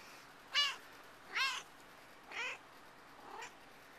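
A house cat meows four times in evenly spaced calls, fairly close, each call a little softer than the one before, over a quiet indoor background.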